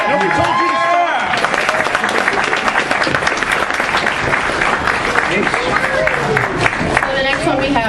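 A crowd at a Comicon costume contest claps steadily and loudly throughout, with cheers, whoops and voices mixed into the sustained applause.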